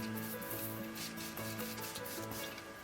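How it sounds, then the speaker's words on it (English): The back of a spatula works soft butter and sugar together in a large bowl, making soft, close, rhythmic rubbing and scraping strokes that repeat steadily throughout. "just using the back of my spatula, I'm going to try and bring everything together"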